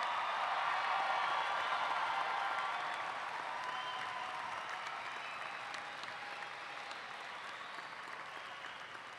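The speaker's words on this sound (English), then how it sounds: "Let's give them a round of applause." The audience at a Murray State University December commencement applauds the graduating class, a broad sustained roar of many clapping hands that slowly fades in loudness over several seconds.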